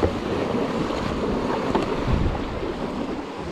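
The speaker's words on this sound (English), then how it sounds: "I'm facing towards the waves." Rough ocean waves and gusting wind around a jet ski out at sea beside an old oil rig in nasty weather, a steady rushing wash with heavy wind buffeting the microphone throughout.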